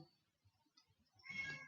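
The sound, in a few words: cat meowing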